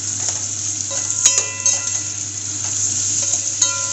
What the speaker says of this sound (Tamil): இப்போ காயெல்லாம் ஒரு 5 நிமிஷமாச்சு வதங்கட்டும்